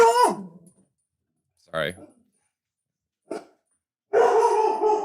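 A dog barks in a few separate sharp bursts with pauses between, fairly close, and a person speaks briefly.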